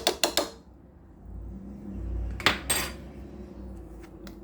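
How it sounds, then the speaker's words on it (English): Yeast and flour are stirred in a bowl, and the utensil clinks and scrapes against it. Sharp taps come in small clusters at the start and again near the middle, with a soft scraping rustle between them. "I'm just going to stir it up a tad so it gets all moist all over all of it"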